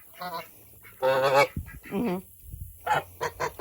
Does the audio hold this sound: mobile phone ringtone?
no